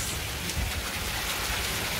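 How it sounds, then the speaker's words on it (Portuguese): Rain falls steadily in the dry backlands, a dense even hiss of drops on surfaces with no pause, fairly close and unbroken. "Olha a chuva."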